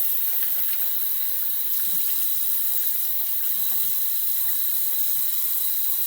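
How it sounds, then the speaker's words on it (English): A tap runs steadily for rinsing while shaving with a Kamisori razor, the water hissing and splashing into a sink at an even, fairly loud level with no pauses and no talk. "I'm gonna rinse off the cold water."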